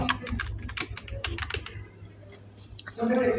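Close, fast typing on a computer keyboard during a logo design session, a dense run of clicks that pauses briefly near the end before resuming with a steady background hum.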